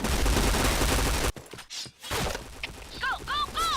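Gunfire from the online shooter Point Blank bursts as a dense, loud volley that cuts off abruptly, followed by quieter game effects and a player's voice.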